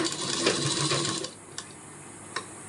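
Sewing machine stitching sheer organza fabric for a dupatta, running as a steady, close mechanical whir for just over a second before it stops, leaving faint clicks and light handling noise.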